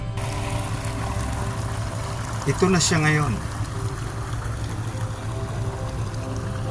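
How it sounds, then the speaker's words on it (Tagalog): Dark, polluted water flows in a creek in San Mateo, Rizal, a steady trickling rush heard close by under a brief spoken voice. "Napakaitim ng tubig na dumadaloy sa ating sapa, sa ating batis."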